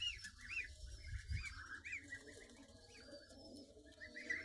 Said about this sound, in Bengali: সন্ধ্যা হয়ে আসতেছে কবুতরগুলো সবাই সবার বাসার ভিতরে ঢুকে যাইতেছে